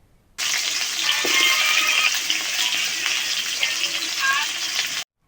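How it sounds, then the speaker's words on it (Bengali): Potatoes frying in a pan of hot oil, a loud dense sizzle that starts abruptly, holds steady for about four and a half seconds with small crackles and bubbling, then cuts off. "দিয়ে আবারও ওই একই তেলের মধ্যে আলুগুলো দিয়ে ভালো করে ভেজে নিতে হবে।"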